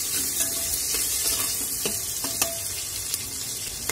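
Onion, chili and cumin sauté in a hot pan, giving a steady close sizzle broken by scattered scraping stir strokes.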